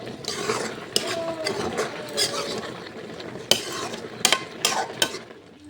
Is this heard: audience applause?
no